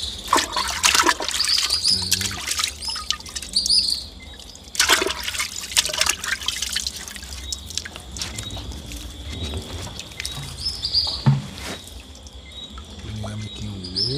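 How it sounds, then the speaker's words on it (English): Raw chicken is washed in vinegar water, with splashing, trickling liquid and wet handling noises in bursts, fairly close, and no talk over most of it. "I get this chicken and wash off."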